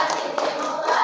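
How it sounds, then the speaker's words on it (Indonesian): Schoolchildren in a classroom give a group a burst of applause, dense continuous clapping of many hands close by, with some voices mixed in. "give applause for Mbak April's group"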